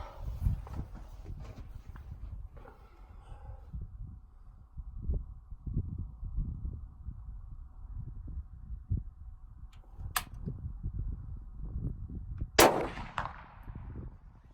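Two sharp shots from a Ruger Mini-30 rifle crack out, one around the middle and a louder one near the end, over a background of rustling and soft thumps.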